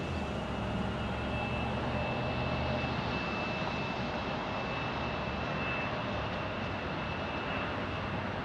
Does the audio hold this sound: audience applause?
no